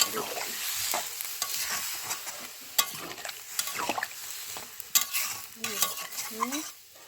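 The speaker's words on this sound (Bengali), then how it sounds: "তো আমার আলুটাও ভালো করে ভাজা হয়ে গেছে" Potatoes for aloo dum frying in a pan while a spatula stirs them, giving irregular scraping strokes and sharp knocks over a soft, continuous sizzle, close and fairly loud.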